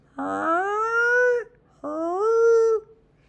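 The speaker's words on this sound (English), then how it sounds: "It sounds like this" Two long, rising-then-level tonal calls of a tule elk with rich harmonics, each over a second long, separated by a brief pause, clear and fairly close.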